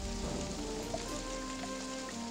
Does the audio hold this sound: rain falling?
yes